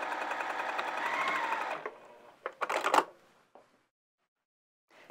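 A sewing machine stitches flannel for a tunic with Gutermann all-purpose thread, a close, steady whir for nearly two seconds, then a few sharp clicks and knocks of handling the fabric and presser foot.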